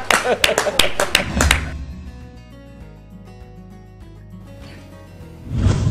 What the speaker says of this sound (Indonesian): tepuk tangan dong buat mereka bertiga